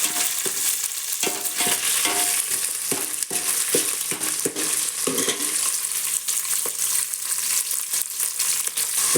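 Food frying in a pan for tomato poha, a continuous close sizzle broken by frequent scraping and stirring clicks of a spatula, with no talking.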